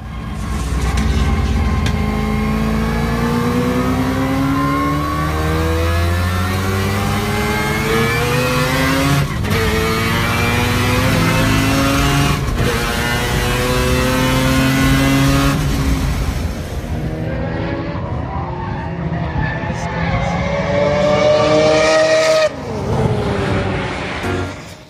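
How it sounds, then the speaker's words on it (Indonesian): A Mazda three-rotor 20B-REW rotary engine revs hard, its high, smooth, racing-car-like wail climbing and falling through several long sweeps, loud and close, with a final rev and drop near the end. "teknologi 3 rotor dari mesin 20B REW sering dipakai buat RX-7 dan suaranya tuh nyaris mendekati mobil formula"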